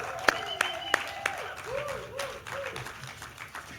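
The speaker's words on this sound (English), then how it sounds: "Keep the applause going." Audience clapping at a health conference launch event, scattered sharp claps early on under continuous crowd applause, with a voice speaking over it in the middle and the applause fading toward the end.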